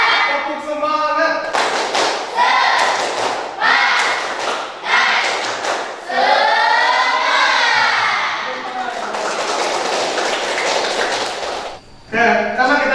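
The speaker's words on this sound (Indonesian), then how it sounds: "Bapak minta semuanya sekarang tepuk semangat" A classroom of students performs a rhythmic spirit clap, bursts of sharp claps alternating with loud group chanting voices, filling the room close up.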